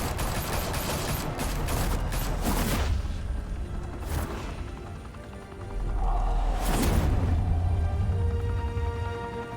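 Gunfire erupts in Batman The Telltale Series, loud continuous volleys of shots layered over a heavy low rumble, with a swelling boom partway through and the barrage carrying on to the end.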